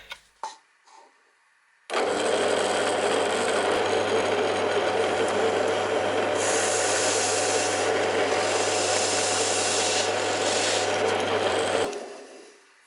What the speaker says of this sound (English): when I drilled that hole, I exposed the inside of the lemon there.